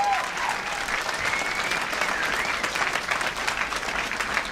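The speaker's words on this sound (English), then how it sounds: "By a round of applause." An audience at a live talk event breaks into dense, sustained applause, steady clapping from many hands filling the room with a few faint voices mixed in.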